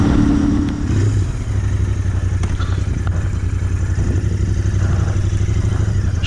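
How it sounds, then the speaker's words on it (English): A motorcycle engine drones steadily with a pulsing, throbbing rhythm while being ridden along a road, loud and close with wind rumble and no talking. "now we need to go and have a look at what this bike does on my more favorite roads"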